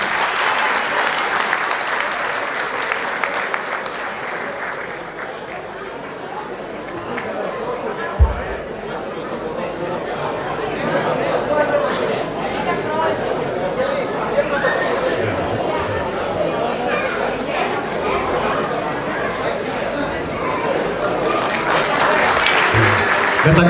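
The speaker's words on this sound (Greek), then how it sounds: "Πάμε, ένα χειροκρότημα, παιδιά." Audience applause at a centenary celebration of the MEAS Apollon Ammochoriou club in Florina, sustained clapping from a sizable crowd at steady loudness throughout, with faint chatter mixed in and a brief thump partway through.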